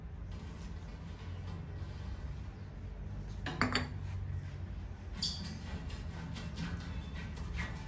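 A metal baking tray is handled while being greased with oil in a home kitchen, giving quiet soft rubbing with a few sharp metallic clinks and clatters near the middle and later.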